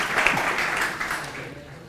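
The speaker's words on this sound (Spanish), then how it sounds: "os dejo con Daniel Blanco, al que tenemos que recibir con un aplauso, por supuesto" Audience applause welcoming Daniel Blanco at a talk at Estación de las Letras, a steady wash of clapping from a room of people lasting about two seconds, easing off slightly toward the end.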